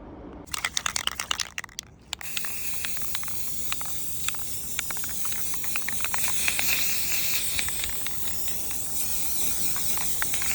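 Spray paint hisses steadily over reclaimed 2x4 wooden pumpkins, with a burst of short sprays at the start giving way to a continuous close, loud hiss; no talking.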